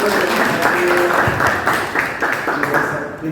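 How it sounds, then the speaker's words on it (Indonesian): Audience applause at a classroom or school presentation, a steady dense wash of clapping lasting throughout, moderately loud with some voices mixed in. "tepuk tangan dulu"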